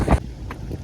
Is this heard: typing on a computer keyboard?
no